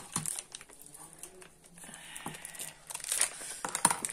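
A package of chewing gum being opened close by: crinkly plastic wrapper crumpling and tearing in short irregular bursts, growing busier toward the end.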